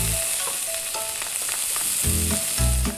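Vegetables hit a preheated wok and fry with a bright sizzling hiss, a few scraping stir strokes and low thuds toward the end as more go in, close and steady.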